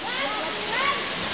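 Kuang Si Waterfall in Laos pours in a loud, dense rushing roar of falling, splashing water, with a voice faintly audible under the torrent.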